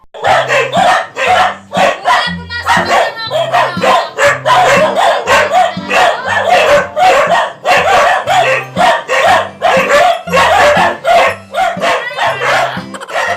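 Several dogs bark agitatedly and almost without pause, loud and close, with overlapping yaps and a rooster crowing somewhere in the mix.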